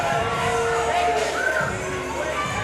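A boxing fight-night crowd, Next Level Promotions' Level Up Fight Night 2, roars steadily for a boxer, a loud sustained wash of cheering and shouting with a commentator talking over it.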